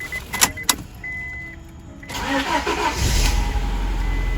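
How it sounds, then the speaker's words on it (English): A 2000 Honda Accord being started: a few sharp clicks, then the starter cranks briefly and the engine catches and settles into a steady, fairly loud idle. "we're gonna turn the car on, let it run for a while, and let the thermostat open up"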